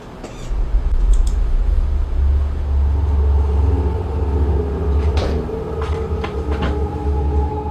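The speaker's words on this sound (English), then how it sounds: "right at the end you'll hear the attic door bang" An attic door bangs in a house, giving a few sharp knocks and thuds late on over a constant low, rumbling background.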